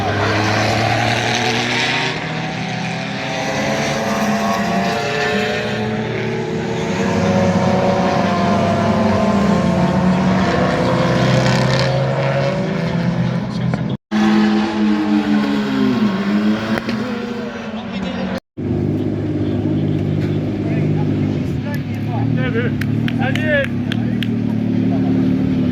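Race cars lap the Nogaro circuit in France during a Coupe de France des circuits race. Loud engines roar and pass by continuously, with rising and falling pitch as cars go past, while a voice talks over them.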